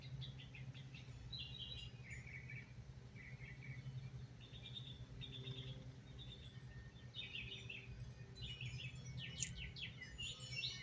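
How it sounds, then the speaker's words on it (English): Birds chirp and sing outdoors in a faint, distant scattering of short calls over a steady low hum. "Birds are so beautiful."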